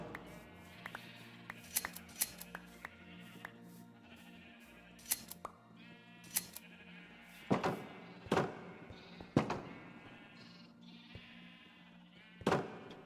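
Sheep bleat repeatedly in Minecraft, interleaved with sharp clicking game effects in irregular bursts, moderately loud and close, with no speech.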